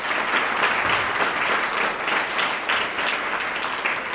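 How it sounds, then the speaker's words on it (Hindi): A large crowd applauds at an outdoor election rally in Konta, Sukma, Chhattisgarh, with dense, steady clapping that holds loud and continuous throughout, no voices rising above it. "जय कुमार के लिए जोरदार ताली मार रहे"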